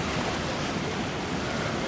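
Ocean surf rolls onto the beach at Elmina, Ghana, as a steady, close, full roar of breaking waves and wash with some wind noise and no voices.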